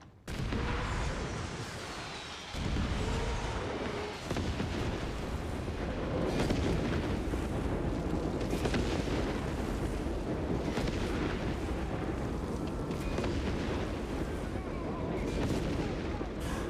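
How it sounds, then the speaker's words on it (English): A rocket barrage in Company of Heroes 3, with a dense, continuous roll of overlapping explosions and rumbling impacts. Heavy booms come almost nonstop, one sharp early blast stands out, and a voice is faintly heard beneath. "Firing rocket barrage."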